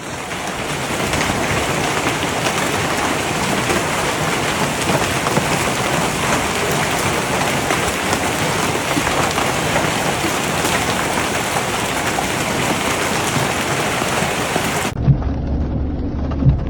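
Hailstorm pelting rooftops in Paris, a loud dense unbroken hiss and clatter of ice hitting surfaces with low rumbling underneath, lasting throughout before cutting off abruptly near the end.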